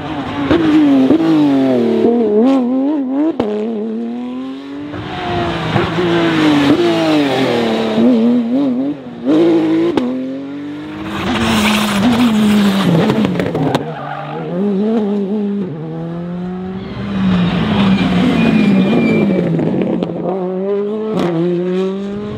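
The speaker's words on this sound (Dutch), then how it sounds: "Kijk, hier zijn Porsche." Porsche race cars at the Omloop van Vlaanderen 2021 event roar past on the track one after another, with loud, sweeping engine notes that rise and fall through gear changes and an occasional tire squeal.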